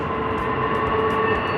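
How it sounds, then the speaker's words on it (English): A long freight train rolls past on its tracks, a steady, dense rumble with constant wheel and car noise holding at even loudness throughout, close by and with no voices. "I've been watching this freight train, you know what I call them, freight trains, for about 5 minutes."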